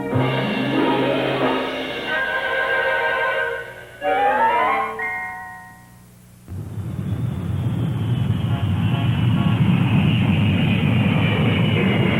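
A steady, loud airliner engine roar for a flight departing Los Angeles for La Paz, Baja California, builds and holds after a brief musical stretch at the start.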